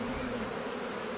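Honey bees buzz at a beehive fitted with a queen excluder grid, a dense, steady droning hum that stays unchanged throughout.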